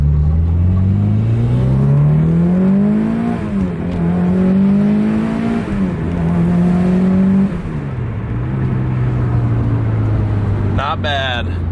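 A Mitsubishi Lancer Evolution IV engine idles and revs up repeatedly, rising and falling in pitch, loud and close, with a sharp burst at the end.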